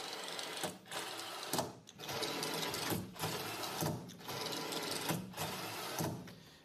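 A telescopic robot elevator driven by a 435 motor runs repeated lift cycles: a whirring mechanical drive in even bursts about once a second, separated by short pauses.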